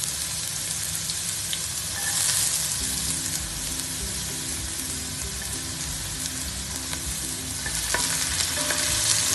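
Ginger frying in about two tablespoons of hot oil in a pan, a bright, close, continuous sizzle with occasional stirring scrapes, swelling slightly in intensity at moments.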